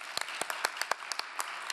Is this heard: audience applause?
yes